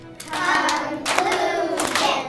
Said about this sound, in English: Okay, let's clap it.